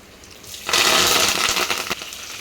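Seeds for a tempering splutter in hot oil for a Malabar spinach dal. A quiet start breaks into a sudden loud, close burst of crackling and popping that keeps going and then eases slightly.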